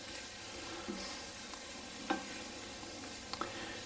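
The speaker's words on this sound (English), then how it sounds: "Get that garlic cooked in real good." Garlic sizzling in a soup pot before flour is added: a steady close frying hiss with a few soft stirring clicks, no voices.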